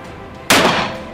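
A single sharp Smith & Wesson revolver shot fired from 5 meters, a sudden loud crack that ends a quiet lead-in and then decays briefly, with no talk.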